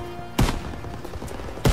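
Gunfire in the World War II shooter Call of Duty: WWII during D-Day combat, two loud sharp shots about a second apart over steady background battle noise.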